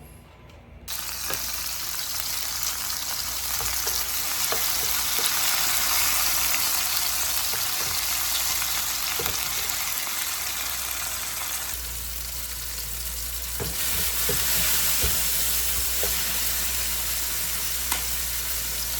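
Eggplant and tomatoes fry in a pan, a continuous loud sizzle with soft clicks and clatter of stirring, close by, the hiss shifting in tone partway through, with no talk.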